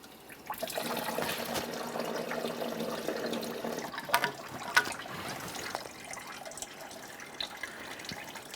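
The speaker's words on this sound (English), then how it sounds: "Make sure all this coolant makes its way into the bucket." Coolant drains from a radiator hose of a 1998–2011 Ford Ranger 2.3L into a bucket, a steady close splashing flow that runs for several seconds, then tapers to irregular drips and trickles.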